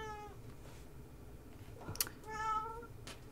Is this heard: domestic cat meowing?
yes